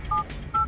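Two short telephone keypad tones beep in quick succession, clear and close, with a brief gap between them.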